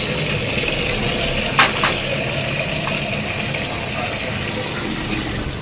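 Cold tap water pours over boiled noodles in a strainer as they are rinsed, making a continuous, fairly loud splashing rush with a small clatter early on.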